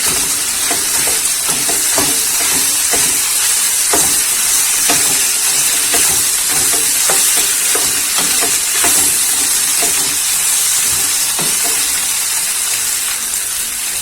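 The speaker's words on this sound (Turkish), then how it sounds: "Karıştırıyorum." Chicken frying in a pan with other ingredients while being stirred: a constant loud sizzle and hiss with scattered scraping and clicking from the stirring utensil, close up and with no talking.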